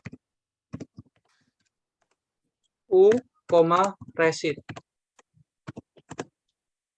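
Computer keyboard typing while entering a command into Stata statistical software: scattered soft clicks and short bursts of keystrokes, with a voice speaking briefly partway through.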